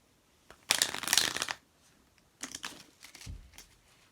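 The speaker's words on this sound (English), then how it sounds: "I'll shuffle it up really quick for you." A deck of playing cards is shuffled up close: one long riffle burst, then several shorter crisp riffles and taps with a soft thump, no talking.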